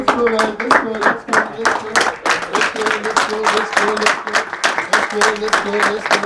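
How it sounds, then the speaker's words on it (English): Clapping at a restaurant event, a rhythmic, loud burst of hands beating in time for about six seconds while voices and music-like tones sound underneath. "Let's give ourselves a round of applause."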